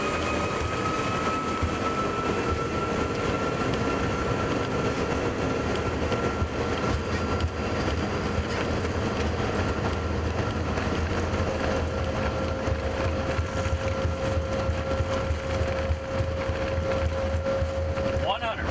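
An Air Canada A330-300 accelerates down the runway out of Toronto, heard from the cabin. Its engines make a loud, steady roar with sustained tonal whine, and faint voices sit beneath the noise.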